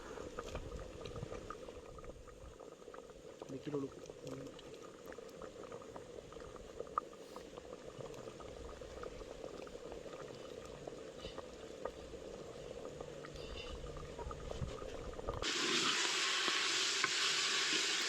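Dried anchovies drop into a bottle gourd gravy simmering in a pot, giving a steady close bubbling and low sizzle that runs throughout, with a brief stirring clatter and the boil growing louder near the end.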